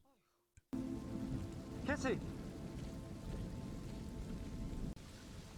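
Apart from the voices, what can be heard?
rain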